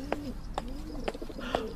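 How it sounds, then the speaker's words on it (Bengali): Pigeons coo from the rafters above a long veranda, used as a sound effect in an audio drama. Four soft, evenly spaced coos sound close and quiet, with no other noise around them. "মাথার উপর কড়িবর্গা থেকে পায়রার ডাক শোনা যাচ্ছে"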